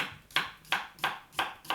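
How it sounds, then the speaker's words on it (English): A knife chops cucumbers into little pieces on a cutting board, five sharp evenly spaced chops in a steady rhythm, close and clear with no talk over them. "we're going to go ahead and chop up the cucumbers"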